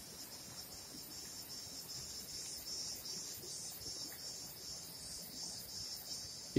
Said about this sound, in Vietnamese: Đêm thì nghe tiếng dế kêu